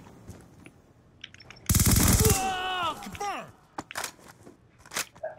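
A sudden burst of rapid automatic gunfire rips out in the video game Black Ops 2, loud and close for under a second, surrounded by shouting voices and scattered smaller game noises.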